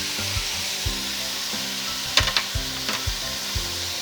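Diced tomatoes for a lasagna sauce hit a hot pan with a loud sizzle, followed by a few scraping spoon stirs and clinks against the pan, with no talking.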